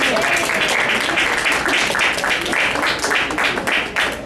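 A crowd at a Radford University African Views Organization gathering claps steadily for Moses as he comes onstage, a thick, even wash of many hands sustained from start to finish, close and full.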